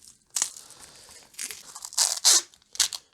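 Tape ripped off a roll while rigging for plein-air oil painting in the rain, several sharp tearing bursts in quick, uneven succession, close and fairly loud.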